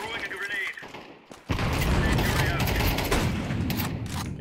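Rapid gunfire crackles in a first-person video game shootout, a sudden loud burst of shots that starts after a quiet moment and keeps going, close and dense, with a voice talking over it.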